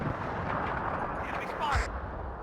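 Artillery guns fire in the WARNO wargame, booming with a deep thud near the end amid a dense, continuous layer of battle noise, with a voice speaking over it.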